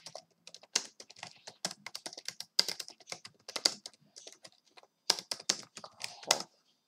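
Rapid clicking keystrokes on a computer keyboard as a chat message is typed during an online chess bullet game, close and crisp in uneven bursts, with no voices.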